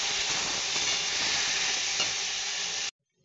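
Ground spice paste fries loudly in a pan, a dense, even sizzle close up that runs without pause and then cuts off abruptly near the end; no one speaks.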